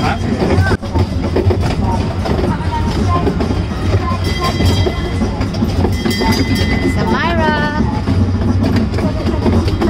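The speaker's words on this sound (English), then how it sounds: "I'm taking a train instead." Steady rumble and rattle of a train rolling along the rails, with voices talking over it and a brief squeal partway through.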